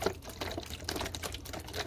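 A liquid chemical mixture is poured over small metal bells to give them a rusty finish, heard as faint, uneven splashing and trickling bursts in a quiet room.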